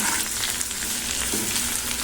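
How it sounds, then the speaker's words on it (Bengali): Potatoes fry in a pan with a dense, steady sizzle, loud and close, with no voices over it. "আলু ভাজা বসিয়ে দিয়েছি"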